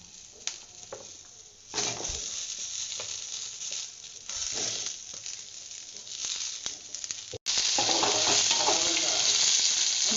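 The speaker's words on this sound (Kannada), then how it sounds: "ಈ ಮೂರಕ್ಕೂ ಸ್ವಲ್ಪ ಎಣ್ಣೆ ಹಾಕಿ ಫ್ರೈ ಮಾಡ್ಕೊತೀನಿ" Three ingredients, including green chillies, fry in a little oil with a steady close sizzle, stirred now and then with scrapes and clinks, the crackle growing louder near the end.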